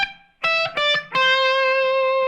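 An electric guitar plays a solo phrase: a few quick plucked notes, then a sustained final note held with vibrato, sounding clean and close.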